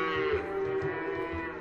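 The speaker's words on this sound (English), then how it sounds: "a roving band of Norwegian cows has just shown up here" Norwegian cows moo loudly and close by, a long drawn-out low bellow with a few overlapping calls, and no voices.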